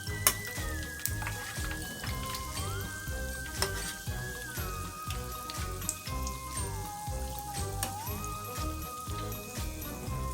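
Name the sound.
Oreos deep frying, sizzling in oil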